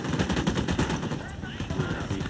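Rapid automatic gunfire in Ghost Recon Wildlands, a loud, continuous rattle of evenly spaced shots at close range that briefly thins out and then resumes.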